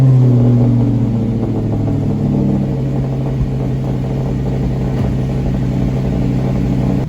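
An Audi RS5 engine rumbles loudly on a cold start with a revving surge at first, then settles into a steady, deep idle close by.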